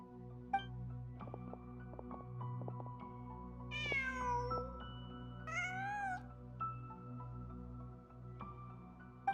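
A cat meows twice in the video game Genshin Impact, two clear rising-and-falling calls set over a steady ambient game soundscape with soft background tones.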